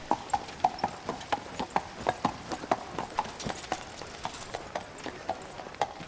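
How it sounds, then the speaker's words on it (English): Rhythmic clip-clop of horse hooves striking a hard surface, steady and fairly close, with a faint background murmur. "the clatter of horses' hooves"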